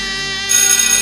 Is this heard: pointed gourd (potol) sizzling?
no